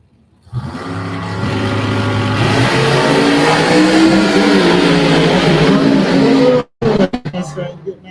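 A 2005 Mustang drag car launches off the line and screams through its gears, the engine note climbing loud and close for several seconds before cutting off abruptly, with a voice talking over it.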